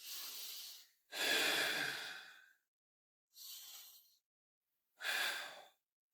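Four deep breaths during an evening Pilates stretch, close and clear: long airy inhales and exhales separated by silent pauses, the second breath the longest and loudest.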